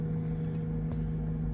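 Engine of a 2023 Toyota Rush idling steadily just after startup, a low continuous hum with a faint mechanical whine, close and even, with no talking.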